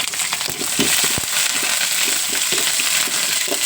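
Curry leaves dropped into hot oil with browned onions, giving a steady, close sizzle and crackle with occasional pops and stirring scrapes.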